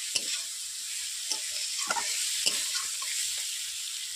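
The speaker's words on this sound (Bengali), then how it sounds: "আলু সোনাডাটা দেওয়ার পর আমি 1 থেকে 3 মিনিট আমি কষিয়ে নিচ্ছি ভালোভাবে।" Potatoes and drumsticks sauté in a pan with a continuous hissing sizzle and several soft scraping stirs and taps of the spatula, close by with no voices.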